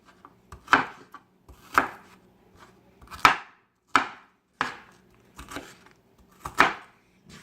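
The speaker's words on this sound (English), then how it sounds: "I'm cutting 1 onion." A butcher knife chops through an onion on a board, giving six or seven sharp, separate strokes at an uneven, unhurried pace. Each one is close and crisp, with quiet gaps between them.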